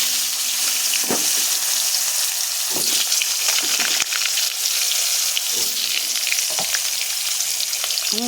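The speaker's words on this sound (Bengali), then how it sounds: "এই তেলেই আমি আলুগুলো ভেজে নেব" Potatoes frying in oil already used for pointed gourd, a steady bright sizzle with occasional pops and faint stirring clinks, continuous and close.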